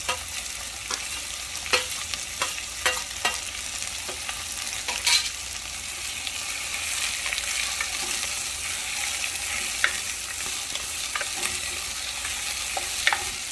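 Cabbage stir-fried in a hot pan for veggie Szechuan fried rice: continuous sizzling with repeated clicks and scrapes of a spatula tossing the vegetables, close and steady, with no talking.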